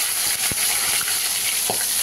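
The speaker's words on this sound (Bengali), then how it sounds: "হয়ে গেছে আমার তেল, আমি মাছগুলো এইভাবে ভেজে নিচ্ছি" Shapla fish fry in oil in a wok, a continuous close sizzle and hiss with a couple of soft knocks from the pan, no talk.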